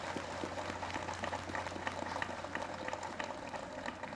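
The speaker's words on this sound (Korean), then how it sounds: "박수 한번 크게 쳐야죠." Distant, steady applause from a gathered crowd honoring a provincial traditional Korean music orchestra at an outdoor homecoming address, a faint crackling patter of many hands over a low hum.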